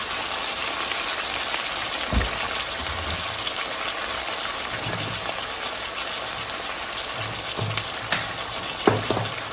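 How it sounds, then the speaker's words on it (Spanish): Meat sears in a frying pan with salt, pepper and chicken bouillon seasoning, giving a loud, steady sizzle throughout, broken by a few soft stirring knocks, with no voices. "Aquí lo voy a dejar un momento nada más para que empiece a sellarse toda esta carne"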